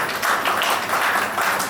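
A crowd claps continuously at a retirement gathering, a steady dense patter of many hands, fairly loud and sustained without pause and with no voices over it.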